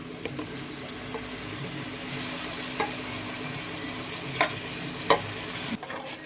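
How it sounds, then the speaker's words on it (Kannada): Boiled horse gram is stirred into a sizzling tempering in a pan, giving a steady, soft frying hiss broken by a few light scrapes and clicks of the spoon before it cuts off. "ಇದಕ್ಕೆ ಬೇಯಿಸಿರೋ ಕಾಳು ಹಾಕೋಣ"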